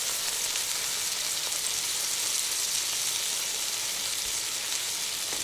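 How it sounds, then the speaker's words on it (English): Food sizzling on an outdoor grill, a dense continuous hiss of frying fat held at an even level throughout with no voices. "I got the sizzle sound effects for you."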